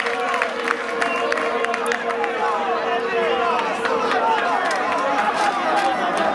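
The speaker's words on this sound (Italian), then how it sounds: "applausi del pubblico" A crowd at an amateur football match, a dense murmur of spectators with scattered claps and chatter, steady and somewhat distant beneath a commentator talking.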